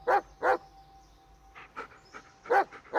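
A dog in the video game Blair Witch pants in quick, breathy bursts close by, with short pauses between the puffs of breath.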